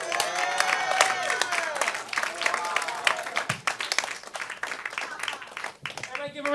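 Audience at a live comedy show breaking into sustained applause and clapping, dense and close, with a performer speaking over it toward the end.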